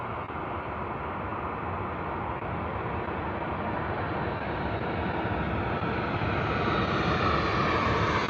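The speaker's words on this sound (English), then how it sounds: "Look how hard Ryanair brought the nose down at that Boeing 737" A Ryanair Boeing 737 MAX 8-200 comes in to land overhead, its jet roar loud and close, steady and swelling slightly toward the end with no talk over it.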